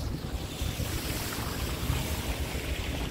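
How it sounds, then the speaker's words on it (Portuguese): Water gushing out at a shopping-centre construction site in Recife, a steady broadband rushing and splashing flow with low rumble, continuous and fairly close throughout, no talking. "Está jorrando aqui uma água."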